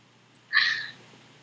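A single short, faint cat meow rises briefly over a quiet background hiss.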